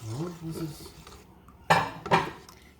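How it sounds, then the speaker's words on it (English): Pancake batter for Vietnamese pancakes gets stirred in a bowl, a few sharp clinks and scrapes of utensil against the bowl, close and brief, after a murmur of talk at the start. "So stir it up."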